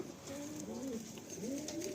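Pigeon cooing in a pigeon loft, a steady run of soft, rolling coos repeating close by over a low room hum.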